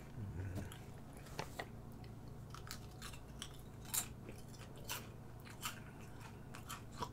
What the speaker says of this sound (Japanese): サクサク、 食感もちょうどいい。